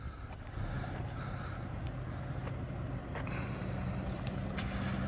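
A two-door Land Rover Defender 90 drives to the end of a road and makes a 180-degree turn; a steady, moderately distant engine rumble with road noise carries on throughout.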